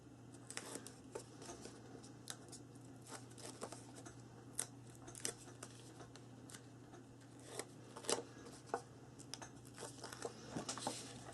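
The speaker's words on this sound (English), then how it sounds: "So I'm going to peel this off." Backing paper is peeled off a strip of score tape during book-box papercraft. The result is faint, quiet crackles and short ripping ticks scattered through the stretch, with no speech.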